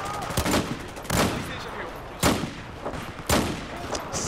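Gunfire and artillery blasts from the Battlefield 4 video game arrive as several sharp, loud reports spaced a second or so apart. A busy rumbling battle backdrop runs underneath.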